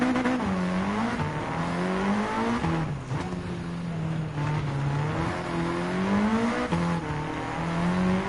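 A 4WD race car on a Japanese downhill hairpin in Gran Turismo 7, its engine note rising and falling through gear changes and braking, loud and close with no talk.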